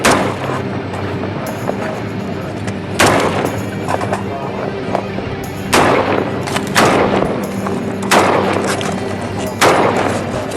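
Gunfire during the battle for Najaf, Iraq, incoming return fire: loud sharp shots and bursts crack out at irregular intervals over a steady noisy background, some close and heavy, with voices faintly underneath.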